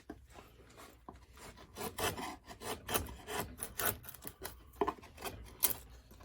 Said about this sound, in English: just keep chiseling